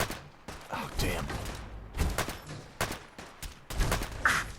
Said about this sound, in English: We got a gunfight already.